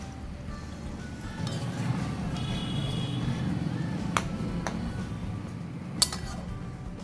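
Water is swirled through a bowl of ground garam masala and poured into a thin Bengali egg curry, bringing a low running rush with several bright clinks of metal bowl and spoon, close and fairly loud.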